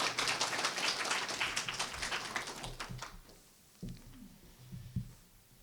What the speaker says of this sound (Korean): 다 같이 큰 박수로 총장님을 연단으로 모시겠습니다.